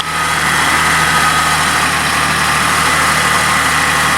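A car engine running loud and close, its steady broadband roar carrying a whining, noisy power steering pump, constant throughout with no speech.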